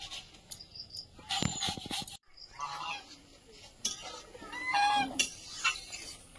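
A duck calls outdoors in a village setting: a few honking quacks in short bursts, moderately near, over a bed of chirping crickets and other faint background noise.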